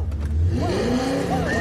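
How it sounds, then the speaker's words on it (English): A car engine starts and revs up inside a crowded showroom, a short rising roar heard close, with a voice reacting over it. "Starting a car in a crowded showroom?"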